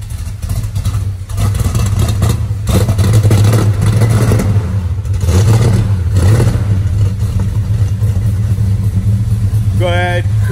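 1970 Dodge Charger engine running close by, a loud, steady rumbling idle with slight surges, with people talking over it.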